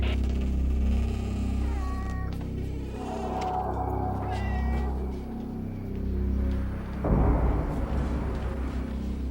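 House cats meow in a dim, tense indoor scene, thin cries rising over a steady low hum, with a sudden rustling bump near the end.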